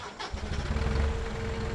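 A tractor engine in Farming Simulator 17 cranks and catches, then settles into a steady low mechanical rumble that runs unbroken through the short clip, with no voices over it.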